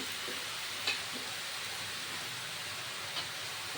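Shredded cabbage tipped into a hot pan with ghee and garam masala for a Bengali vegetarian cabbage dish, giving a steady, even sizzle throughout with a couple of faint stirring clinks.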